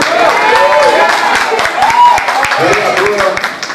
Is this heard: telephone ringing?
no